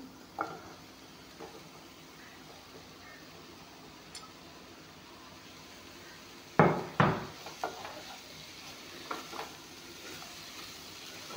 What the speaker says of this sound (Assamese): কঁঠালখিনি অলপমান ভালকৈ ভাজি ল'ম যাতে মছলাখিনি লগত মিক্স হৈ যায়।